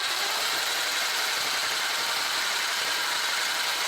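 An old plug-in Craftsman paint shaker running with a spray can clamped in, a constant dense buzzing rattle at even loudness throughout, close by with no voices.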